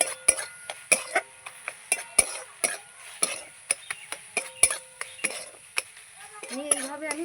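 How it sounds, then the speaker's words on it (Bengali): A spoon stirs and mashes bread into a wet mixture in a bowl, making a rapid series of sharp clinks and soft squelches, close and fairly quiet. "পাউরুটিটা এর সঙ্গে ভালো করে মিশিয়ে নেব"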